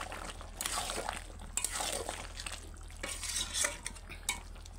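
Chicken kosha stir-fried in a pan with coriander leaves, giving a steady scraping stir with soft sizzling and occasional louder clinks of a utensil against the pan.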